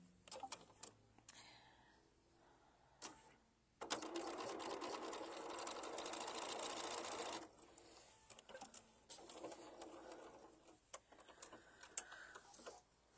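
A sewing machine stitches appliqué for a tabletop banner in a quiet room, whirring steadily for about four seconds between scattered clicks and handling sounds.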